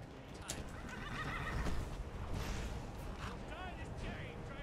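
A horse in the Skyrim video game neighs and whinnies with clip-clopping hooves, over faint game sounds and a player's voice.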